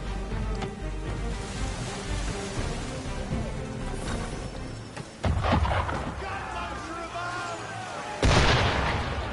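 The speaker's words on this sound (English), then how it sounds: "Why is he shooting at us?" Cannon fire booms at a ship in Assassin's Creed III, heavy blasts landing over a rumbling, stormy background with a sharp, loud burst near the end.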